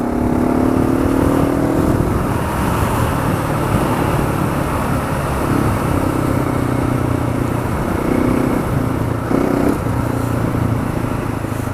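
A KTM 690 Enduro single-cylinder motorcycle rides fast along a muddy Green Mountain trail, its engine droning and revving steadily and loud throughout with no pauses.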